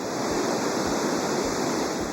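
Water gushes at high pressure and speed from a reservoir dam's dispersing valve, a steady, loud, continuous roaring rush with no break and no voices.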